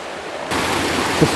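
Small creek waterfall flowing, a steady broadband rush of water that swells suddenly after a brief quieter start, continuous and fairly loud, with no talk.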